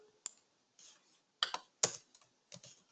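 Keystrokes on a computer keyboard while Java code is written, coming in short separated bursts of clicks with pauses between, close and fairly quiet.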